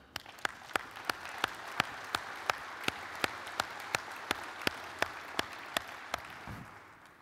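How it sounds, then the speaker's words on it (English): Audience at a training and simulation conference opening ceremony applauds, a soft wash of clapping with one sharp, regular clap standing out close by, roughly every third of a second. "really a round of applause for them"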